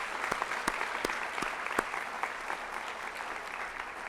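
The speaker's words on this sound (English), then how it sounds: "Let's give them a great round of applause." A crowd at an awards ceremony applauds steadily, with a few sharp, distinct claps from nearby hands standing out above the rest.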